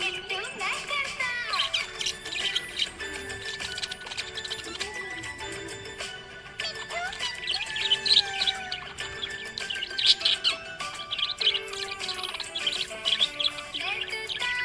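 Happy budgie chirping in a steady stream of bright, rapid tweets and warbles, close and fairly loud, set over a song with sung lyrics.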